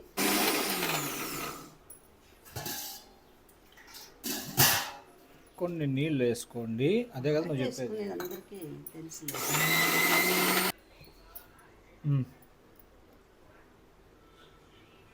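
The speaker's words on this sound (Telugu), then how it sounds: "ఇది మిక్సీ మెత్తగా పట్టుకునేది." A kitchen mixer grinder whirs in several short close bursts as it grinds coriander into a paste, with pauses where people talk between runs.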